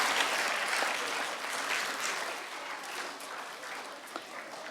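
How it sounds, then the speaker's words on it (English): An audience at a junior school assembly applauds, a dense, sustained round of clapping that stays steady and gradually eases off without any talk over it. "I'd like to give one more round of applause to our presenters and our exhibition students."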